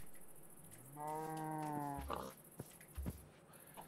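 A cow lows in a Minecraft-style farming game while animals are herded to a farm: one drawn-out, harmonic moo lasting about a second, followed by short thumps and clicks of game sounds.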